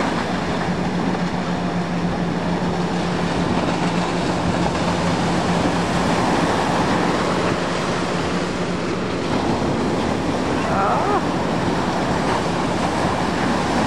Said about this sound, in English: This is the best waves they have here today, for sure. In all of Belgium.